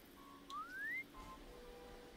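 A single rising whistle from a character in Horizon Zero Dawn, a short steady tone sliding upward and ending abruptly, fairly faint over a quiet ambient game background.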